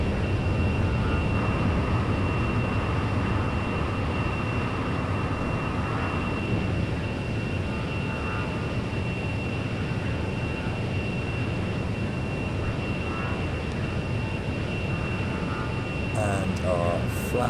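A jet aircraft engine roars steadily during takeoff in the Lock On flight simulator, a loud, unbroken drone with a constant high whine that holds at the same level from start to finish.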